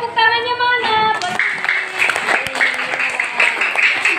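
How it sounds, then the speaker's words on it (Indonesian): Classroom children clapping together after answering a maths question correctly, starting after a brief tonal sound and continuing as a busy, uneven patter, with a voice partly audible over it. "Ayo tepuk tangannya mana?"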